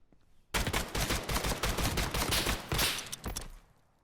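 A rapid, close burst of automatic gunfire from a VR tactical shooter game lasts about three seconds before cutting off into quiet.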